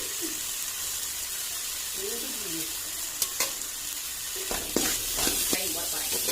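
Turkey berries frying in a pan, a steady sizzle with occasional stirring clinks and scrapes that grow busier toward the end, with a faint voice in the background.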